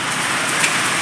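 Heavy rain pours in a dense, steady hiss, drumming close and loud with no pauses.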